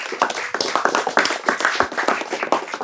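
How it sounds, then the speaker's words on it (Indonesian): An audience at a religious lecture claps in uneven, crisp bursts, the individual slaps of many hands standing out sharply and fairly close, with no voices over them. "Tepuk tangan dong"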